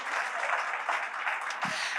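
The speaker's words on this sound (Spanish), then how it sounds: "¿Cuánto le regalan a Dios un aplauso por eso?" A church congregation applauds during a sermon, a steady wash of many hands clapping at a moderate distance, lasting about two seconds without speech over it.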